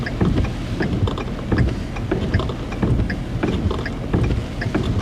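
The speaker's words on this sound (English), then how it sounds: "Just really gusty winds." Gusty wind buffeting outdoors during a storm chase with a tornado threat in Minnesota, loud rushing surges roaring in repeated pulses close to the microphone, with no talk.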